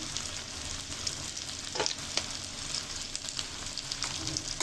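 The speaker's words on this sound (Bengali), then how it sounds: "শুটকিগুলো দিয়েও ভেজে নিব পেঁয়াজ রসুনের সাথে" Dried fish frying in a pan with onion and garlic, a steady soft sizzle with occasional stirring scrapes, close and moderately quiet with no voices.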